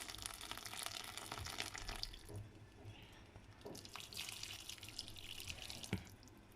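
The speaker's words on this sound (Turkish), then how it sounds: "Daha sonra kaynar suyumu dökeceğim" Boiling water poured over olive-oil stuffed grape leaves in a pot, a steady splashing, trickling pour close by with a few drips, running continuously without talk.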